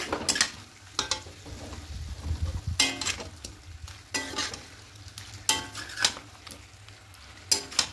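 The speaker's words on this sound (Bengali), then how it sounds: "দিয়ে সবগুলো ভালো করে একটু কষিয়ে নেব।" Fried potatoes being stirred into a pan of milk chicken, with bursts of scraping and clattering spoon strokes against the pan over a low, steady sizzle.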